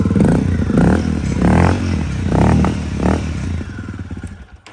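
A Honda CRF 250 L dirt bike engine idles and blips unevenly nearby, its loud, rough throb swelling in several pulses before fading out at the end.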